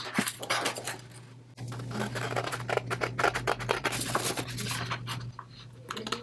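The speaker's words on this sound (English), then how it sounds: "I'm just going to go ahead and cut these out." Scissors snipping through paper in quick, uneven cuts, close up, with faint rustling between snips.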